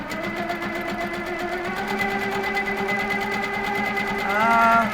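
HQ longarm quilting machine stitching steadily during microquilting of small arches, a continuous close whirring hum with rhythmic needle pulses and a slight rise in pitch near the end.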